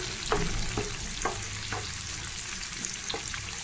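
Curry leaves fry in hot oil in a pan for a Telugu dry fish tomato curry, giving a loud, steady sizzle with several soft stirring scrapes spaced through it.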